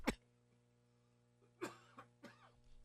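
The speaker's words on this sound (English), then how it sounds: "hold on a minute, I got a cough" A man with a cold lets out a single sharp cough, then two or three smaller throat-clearing coughs a moment later, close to the microphone in an otherwise quiet room.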